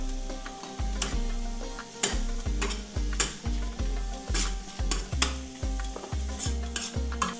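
Paprika being stirred into mince frying on a flat griddle: rhythmic scraping strokes of a spatula over a steady sizzle, close and fairly loud, with no talking.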